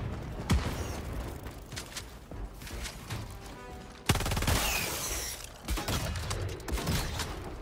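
Heavy gunfire and booming blasts from a mortar turret in Helldivers 2 fighting bugs, with repeated sharp impacts and a loud burst midway, dense and close amid battle noise.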